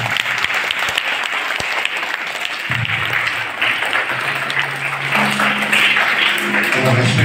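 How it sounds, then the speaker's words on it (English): Sustained audience applause for a school principal at a Gratitude Day event, dense clapping from a crowd filling the hall, loud and continuous, with faint voices and a low hum emerging near the end. "Let's give a big round of applause to him, please."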